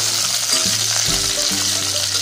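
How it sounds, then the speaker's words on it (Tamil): Pirandai (adamant creeper) frying in hot oil with dried red chillies, giving a loud, steady close-up sizzle and crackle with faint stirring scrapes and no voices. "எண்ணெயில் நல்லா வறுத்துட்டு இதில் பரண்டையை போட்டுடலாம்."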